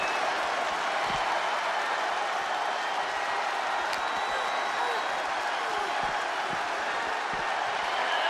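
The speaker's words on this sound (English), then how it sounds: "she is feeling the electricity from the crowd now" A dense arena crowd in the WWE 2K23 wrestling game roars and cheers steadily throughout, a continuous wash of noise with scattered claps beneath a commentator talking.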